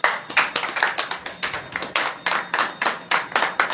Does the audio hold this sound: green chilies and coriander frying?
no